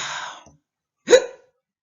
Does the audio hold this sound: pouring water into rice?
no